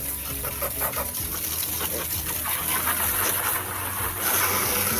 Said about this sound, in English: So keep rinsing, make sure you get everything completely off.